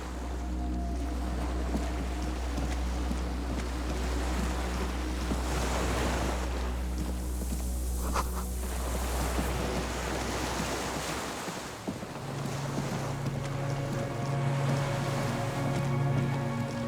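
Ocean waves wash continuously against a shore in the video game Disco Elysium, a steady roar of surf with wind and low droning ambience and no speech.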